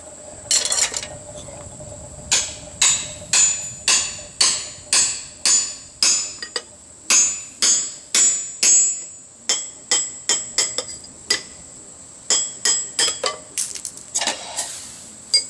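Hot forged steel struck with a hammer on an anvil to start a hole for a pirate skull bottle opener, ringing close and loud in quick rhythmic bursts of several blows separated by brief pauses.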